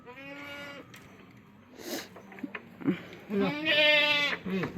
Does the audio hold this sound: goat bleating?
yes